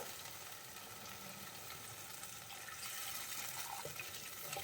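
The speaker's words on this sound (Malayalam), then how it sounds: "അതിൻ്റെ കൂടെ ഒരല്പം വെള്ളം കൂടി നമുക്ക് ചേർത്ത് കൊടുക്കാം." Water pours into a cooking pot with a soft, steady splashing that grows a little fuller partway through. The sound is quiet, close, and there is no speech.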